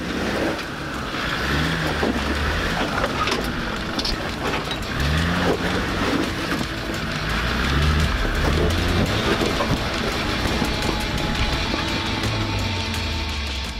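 A heavily loaded Land Rover Defender on 31-inch tires crawls over large boulders, its engine droning low and rising in repeated revving surges, loud and close throughout.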